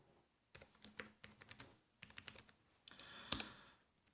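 Quick bursts of key taps on a computer keyboard while entering a web address, in two clusters followed by a louder clatter and click, close and clear against near silence.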